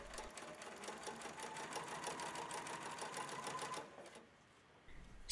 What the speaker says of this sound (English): So for the final stitching, using the twin needle, sew as before.